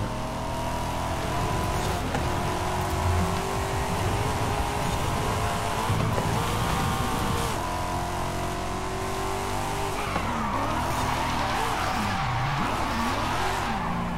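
A car in Forza Horizon 5 oversteers and skids, its engine droning loudly under sustained tire squeal that rises and wavers throughout.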